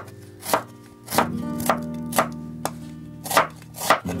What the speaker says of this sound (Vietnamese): Mình băm to ra như thế này.